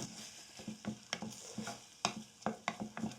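Chili flakes crackle and sizzle in oil in a pan, making chili oil, with sharp intermittent pops and scraping stirs, close and moderately loud, no voices.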